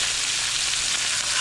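Food sears in a hot pan with a steady, close, loud sizzle and frying hiss throughout, with no talking.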